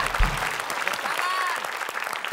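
A studio audience on an Indonesian TV word-puzzle quiz show gives steady, close applause, with voices mixed in and a brief tonal sweep partway through.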